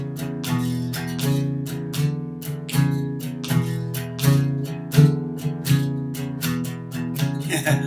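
Blues guitar rhythm with the middle note of each triplet dropped, giving a loping shuffle of repeated strummed chords, full and upfront with a steady swing pulse.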